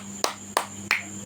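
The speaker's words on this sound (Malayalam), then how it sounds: "ഒരു ക്ലാപ്പ് കൊടുത്തേ" Four crisp hand claps at an even pace, close and dry, each one sharp with a quick decay and no voices between them.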